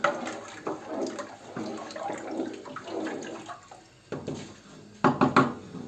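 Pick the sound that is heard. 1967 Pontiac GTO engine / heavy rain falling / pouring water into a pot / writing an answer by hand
pouring water into a pot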